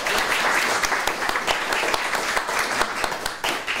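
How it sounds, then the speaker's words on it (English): A master class audience gives a round of applause, with close, dense clapping from many hands that holds steady for several seconds before briefly thinning near the end. "So let's give him a round of applause."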